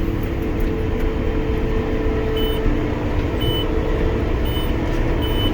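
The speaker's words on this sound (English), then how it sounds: "it beeps a lot, and it gets very annoying" A swather working a field in its final day of swathing gives sharp, evenly spaced warning beeps, about one per second, over a constant loud engine drone.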